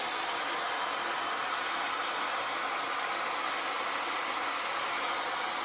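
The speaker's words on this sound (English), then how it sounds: "Cup your hair into the diffuser like so." Hair dryer with a diffuser attachment blowing a steady, loud broadband whoosh that runs unbroken through the clip, with no talking.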